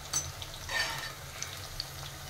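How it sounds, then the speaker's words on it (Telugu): Cauliflower pakodi frying in hot oil, a steady soft sizzle with occasional light stirring clinks from a pan. "అన్ని ఇట్లా వేసి మంచిగా కాల్చుకోవాలండి"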